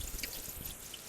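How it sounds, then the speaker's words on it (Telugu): Cooking oil pours into a pot during outdoor village cooking, a short, soft trickling stream heard up close and faint against quiet surroundings. "సో కొంచెం ఆయిల్ వేసుకున్నాం మనం"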